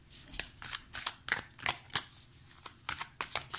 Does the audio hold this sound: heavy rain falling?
no